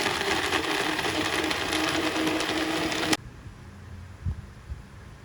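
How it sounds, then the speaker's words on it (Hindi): An electric blender whirs loudly and steadily while blending plums (aloo bukhara) into sharbat, then cuts off abruptly, leaving a few soft knocks and quiet room sound. "अब हम इसको ब्लेंड करेंगे।"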